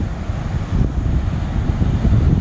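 Ocean waves and wind on a sunny sand beach, a continuous low rushing roar with gusty buffeting against the microphone and no voices.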